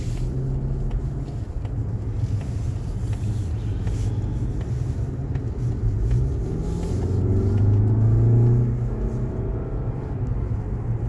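Engine of a new Mazda CX-5 with a Skyactiv engine and six-speed conventional automatic gearbox, heard from inside as a steady low rumble that swells briefly as it pulls, continuous throughout with no talk.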